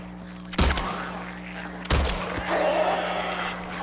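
Two sharp, loud gunshots in Silent Hill 2, about a second and a half apart, each with a booming low tail, followed by a softer rumbling rustle.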